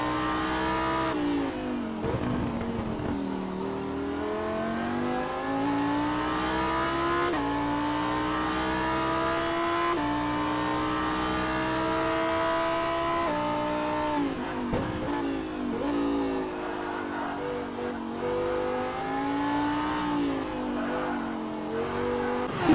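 Super Trofeo race car engine heard onboard at Long Beach, a loud, continuous roar that climbs in pitch through the gears, drops sharply at each shift and braking point, then revs up again repeatedly.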